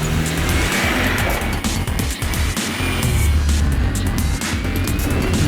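A big Land Rover Defender 4WD works along a rough off-road track near Kempsey, its engine roaring loudly and steadily with tyre scrabble and bumps throughout, and no talking.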